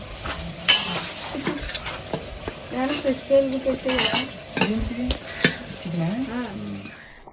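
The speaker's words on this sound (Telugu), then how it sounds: "బిర్యానీలోకి టమాటీ ముక్కలు వేసుకుంటున్నాం." Tomato pieces going into a clay-pot biryani and being stirred, with utensil scrapes and clinks against the pot and faint sizzling, a voice talking over much of it.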